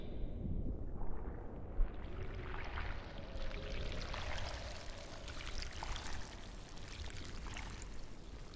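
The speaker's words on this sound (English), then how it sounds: "Listen for a stream." Steady broadband rush of flowing stream water, continuous and fairly close, with a slight gusty texture, no voices.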